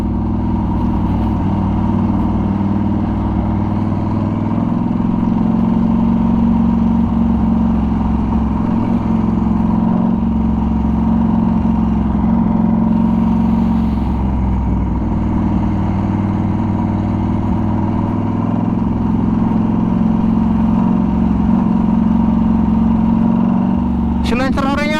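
A British Norton Commando 961 SF MK II motorcycle fitted with a custom exhaust idles with a steady, deep, throbbing rumble under ongoing talk, then briefly revs upward at the very end.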